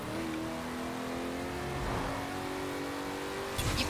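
An El Camino revs and drives in Forza Horizon 4, its engine droning steadily with rising and falling pitch as it accelerates, ending with a short rough burst near the close.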